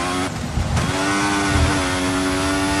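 A Formula 1 car engine in the racing game F1 2014 screams at high, steady revs, with a brief dip as if shifting, loud and continuous throughout.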